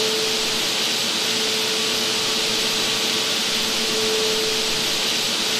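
A steady, even vacuum drone from South Park: The Stick of Truth runs unbroken and fairly loud, with a faint tonal hum riding through it and no voices.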